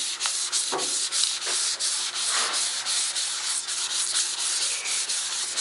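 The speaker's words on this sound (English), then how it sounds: "So here's some 400 grit. Pretty much just going to make the 320 scratch go away" A motorcycle fuel tank sanded by hand with 400 grit sandpaper, a steady close scratchy rasp of continuous back-and-forth strokes, loud and alone.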